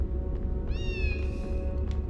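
A cat meows once in the Harry Potter and the Philosopher's Stone PS1 video game, a single drawn-out, clear call above a steady low game background hum.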